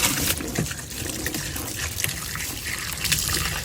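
Water poured and rinsed out of a mostly empty container, a steady close trickle and splash with brief louder surges, no talking.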